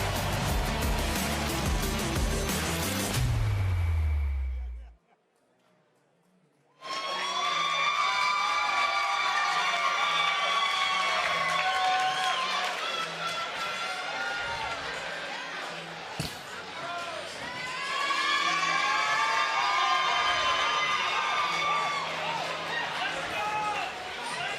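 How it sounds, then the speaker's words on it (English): Crowd at a boxing event, with high, sustained screaming and cheering that fills the arena and swells in waves, broken by a short silent gap near the start and one sharp knock partway through. "You hear those screams?"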